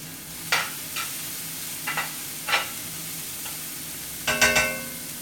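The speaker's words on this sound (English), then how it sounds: "Okay, I'm gonna put the hot peppers in the pan." Hot peppers cook in a skillet, a quiet sizzle under a handful of sharp utensil scrapes and clicks, with a cluster of stirring sounds near the end.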